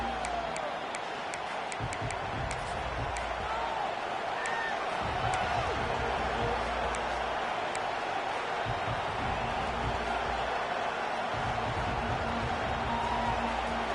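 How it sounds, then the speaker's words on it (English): Football stadium crowd at Michigan vs Washington, a dense, continuous roar of distant voices filling the air with a steady wash of noise, a few faint ticks and claps poking through. "This crowd ready to make its presence known"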